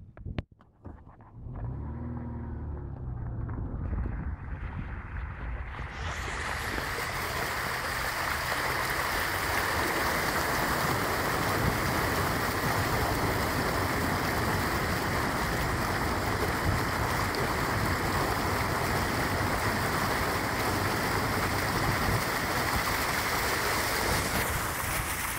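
A vehicle drives through a creek causeway about a third of a meter deep, starting with a low engine rumble before a loud, steady wash of splashing, rushing water builds and holds close by, with no talk.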